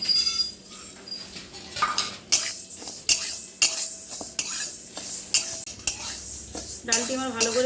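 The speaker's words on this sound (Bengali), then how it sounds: "শুকনো কড়াইয়ে আমি মুগ ডাল ভেজে নেবো।" Moong dal dry-roasting in a hot dry wok, stirred with a metal spoon: repeated scraping and clinking strokes against the pan at an irregular rhythm, close and fairly loud, with faint crackling between strokes.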